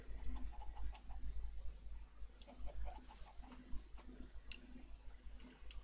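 Chickens in the StoneBlock 2 video game cluck in short repeated bursts over a low steady hum, moderately close and without talk.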